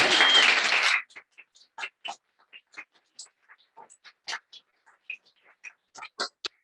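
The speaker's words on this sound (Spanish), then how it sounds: "hoy pues tenemos con nosotros a Teresa Valero, a quien pido una aplauso" Audience at a lecture on the comic Contrapaso greets guest speaker Teresa Valero with a short, full burst of clapping that stops abruptly after about a second, leaving only scattered faint clicks and taps.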